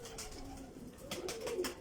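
Pigeons cooing nearby, soft low rolling coos with some rustling and flutter.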